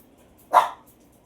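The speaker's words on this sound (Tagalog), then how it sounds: "Ang aso ng kapitbahay namin ay nag-iingay." A single short bark from a neighbour's dog, fairly faint and somewhat distant through a closed window, in an otherwise quiet room.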